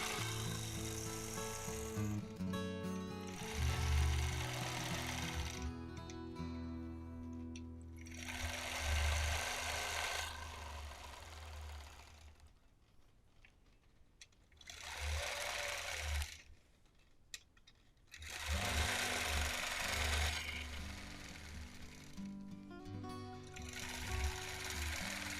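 Sewing machine quilting a crosshatch pattern with ruler work and a hopper foot, its motor running in repeated bursts of rapid stitching separated by short pauses, close and fairly quiet.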